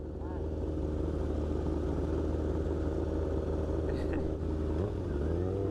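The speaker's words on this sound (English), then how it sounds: "Second gear, crank on the throttle. It's gonna go up" A 2017 Suzuki RM-Z250 supermoto engine runs loud and steady close by, a continuous mid-pitched drone with rising harmonics near the end as the throttle opens in second gear, with wind noise and people talking over it.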